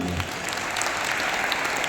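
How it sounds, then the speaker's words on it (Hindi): An audience claps together in steady, dense applause at a religious discourse, the sound sustained and even throughout. "बजाओ ताली इन सबके लिए।"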